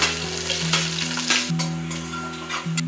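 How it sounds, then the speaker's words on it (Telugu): Onions fry in oil with whole garam masala, including bay leaf, cardamom, black cardamom and cloves, for a chicken donne biryani, making a loud steady sizzle with stirring scrapes close by, over a continuous low stove or appliance hum. "హోల్ గరం మసాలా వేసేసుకొని ఇప్పుడు ఆనియన్స్ వేసుకుందాం"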